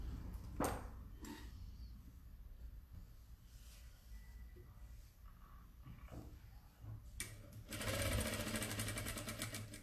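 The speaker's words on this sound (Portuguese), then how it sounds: "Agora, eu vou costurar em cima dessa marcação." A domestic sewing machine runs in short bursts, stitching fabric along a marked line, its close mechanical whir broken by clicks and handling noises, ending in a louder, faster run.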